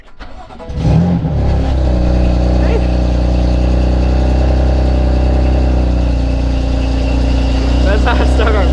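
A tuned BMW F80 M3 engine fires up after an MHD tune, cranking then settling into a loud, steady idle drone that runs throughout, with a voice talking over it.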